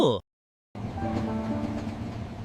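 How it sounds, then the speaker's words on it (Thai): A steady low rumble and rattle of a train to Chiang Mai, Thailand, rolling on the rails, starting after a brief gap of silence and continuing evenly. "จะนั่งรถไฟไปเชียงใหม่เจ้า"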